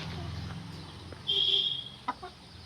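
Newly bought hens let out in a farmyard to graze in the afternoon, giving soft, scattered clucks and one brief louder call over quiet rural background, nearby and alone.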